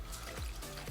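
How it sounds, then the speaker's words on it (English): Shell Premium gasoline pours and splashes onto the tank of a 2007 Kawasaki Ninja ZX6R left sitting for ten years, a steady close trickle lasting about a second. "It's pouring a lot on the tank."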